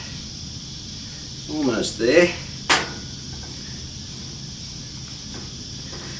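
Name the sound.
cicadas chirping in the background in Australia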